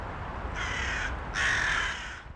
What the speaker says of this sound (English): The birds eventually arrived